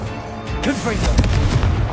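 A Confringo blasting spell explodes in the Hogwarts Legacy video game, giving a loud burst and crackling blast. Game music and effects play under it, and a voice calls out spells.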